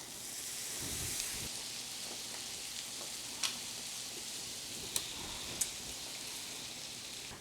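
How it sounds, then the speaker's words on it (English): Turkey bacon fries on a preheated copper griddle, giving a steady close hiss of sizzling fat with a few sharp pops and crackles standing out against the continuous frying. "I already have the griddle out, it's already preheated, I can go ahead and fry that up"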